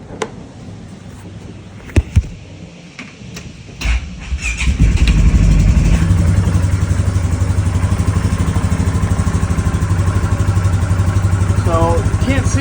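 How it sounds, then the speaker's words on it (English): Polaris Sportsman 570 ATV engine during a starter cranking test: a couple of clicks, then the starter cranks and the engine catches into a loud, steady running rumble, with a voice talking early on. "the next step we're going to do is a cranking test"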